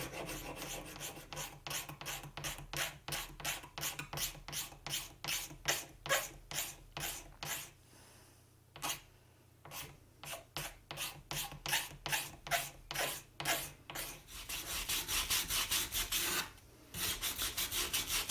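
Rasps and files scrape rhythmically along a wooden acoustic guitar neck being shaped, in fast, even back-and-forth strokes with a couple of brief pauses, close and alone.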